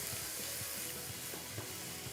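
Water hits a hot pan of fried white sesame seeds for thandai, giving a steady broadband sizzle and hiss with scattered spitting crackles throughout.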